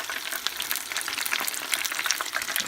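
Chicken wings frying in a pan give a dense, even crackle and sizzle throughout, close and moderately loud with no voice.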